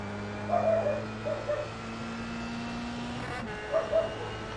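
A female dog named Rita gives a few short, high whimpers and yips in two small clusters, fairly close, over a steady low hum.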